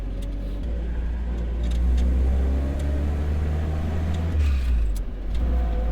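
A WWII Jeep under restoration, running on a slightly flat tyre, pulls away after a gear change. Its engine gives a steady, loud, low rumble that swells as it accelerates, with no talk over it.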